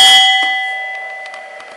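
A railway signal box bell used for Morse-style bell codes gives a single bright metallic strike that rings out and slowly decays, clear and close with no talk.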